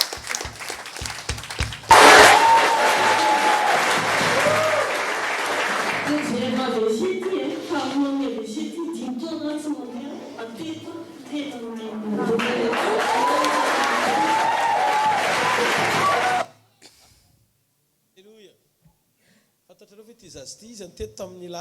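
A church congregation at a Malagasy mission service in France bursts into loud applause and cheering, which swells, eases under a speaking voice, surges again, then cuts off into near silence.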